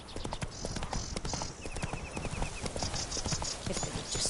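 Roach the horse trots in The Witcher 3 video game, hooves clip-clopping in a quick, regular rhythm up close, with faint game sounds and brief chimes around the footfalls.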